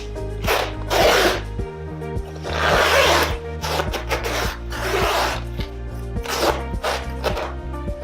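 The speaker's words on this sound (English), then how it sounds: "It just seems like a really low quality zip." A low-quality zip on a cheap AliExpress jacket is pulled up and down repeatedly, producing a series of close, raspy zipping strokes in an uneven rhythm with short pauses between them.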